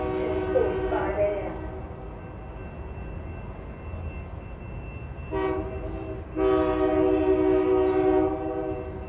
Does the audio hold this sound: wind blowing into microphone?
no